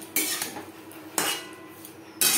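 Three sharp metallic clinks of a spoon against a pan as boiled taro is stirred with spices, spaced about a second apart with quiet between them.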